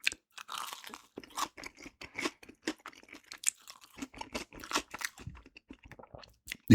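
Close, crisp crunching as KFC potato wedges are bitten and chewed, with a rapid, irregular run of wet chomps and crackles and no talking.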